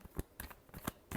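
Tarot cards are shuffled in a quick series of soft, crisp riffling snaps, about five brief flicks in a row, close and quiet.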